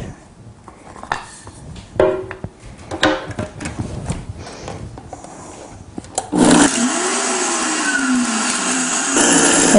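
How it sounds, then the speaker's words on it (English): A blender whirs on abruptly after a few seconds of handling clatter and knocks, grinding marijuana leaves into a flour-like powder, its motor holding a loud, steady whine with a slight pitch sweep as it spins up. "I'll put some into the blender"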